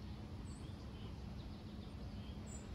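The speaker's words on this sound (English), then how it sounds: "it also invites a lot of birds in the property. So sometimes you could just hear them singing a chorus" Several birds sing in a backyard garden with roses, dahlias and a tall cherry tree, faint chirps scattered over a steady low outdoor rumble throughout.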